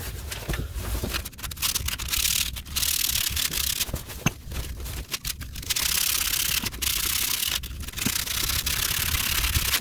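Sandpaper worked over the drive shaft mating surfaces on a 2006-2010 BMW X3 E83, a steady close rasping rub with brief pauses between passes.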